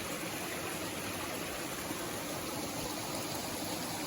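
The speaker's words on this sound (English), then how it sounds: "I thought I'd go ahead and get that little waterfall right there for you" A small waterfall on a mountain stream along the Appalachian Trail, rushing in a steady, dense wash of water noise, close and continuous with no talking.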